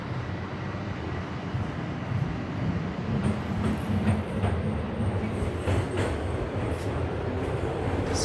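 A Toronto TTC subway train runs near Sheppard West station, a steady close rumble of wheels on rails with faint clicks and squeals, heard from inside the car with no talking.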